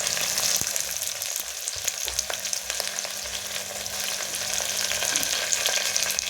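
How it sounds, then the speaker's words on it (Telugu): Onions, green chillies and curry leaves fry in a hot pan for an Andhra-style curry, giving a steady close crackle and sizzle with occasional sharp pops and light stirring scrapes, no voices. "అలాగే ఆనియన్స్ కూడా వేసుకొని, కరివేపాకు కూడా వేసుకొని ఫ్రై చేసుకోవాలి చక్కగా."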